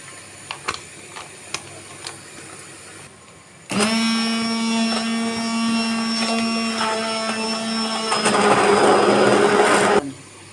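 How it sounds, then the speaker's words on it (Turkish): After a few light clicks, a blender whirs loudly and steadily for several seconds, mixing a banana and lemon milkshake with milk, growing harsher near the end before cutting off. "blenderden geçireceğiz"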